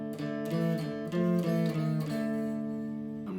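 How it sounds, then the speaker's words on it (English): An electric guitar plays a riff at a slow pace, with a handful of distinct, sustained low notes picked one after another, close and clear, with no talking. "The whole riff slowly sounds like this."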